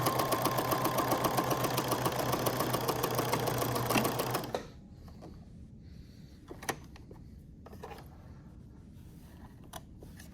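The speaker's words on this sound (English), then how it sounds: "Sew that 1/2 inch seam all the way down." Sewing machine stitching a half-inch seam, a steady fast whirring run for about four seconds that then stops, leaving quiet room tone with a few faint clicks.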